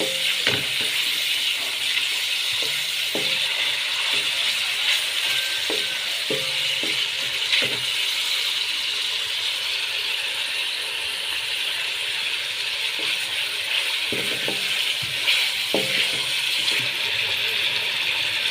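Chicken cooking in a pan for chicken macaroni, a steady sizzle throughout with occasional clinks and scrapes of a utensil against the pan, close and continuous.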